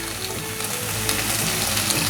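Bitter melon slowly pan-frying in a deep pot, giving a steady, even sizzle at close range with no talking.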